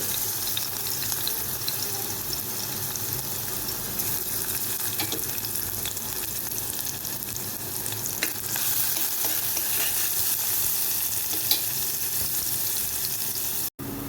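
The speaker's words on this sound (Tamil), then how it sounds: "பூண்டு இந்தளவுக்கு பொரிஞ்சால் போதும்" Garlic fries in hot oil for an egg thokku dish. A dense, steady crackling sizzle holds for the whole stretch, with a few faint clicks of a utensil. It cuts off abruptly at the very end, and no one speaks.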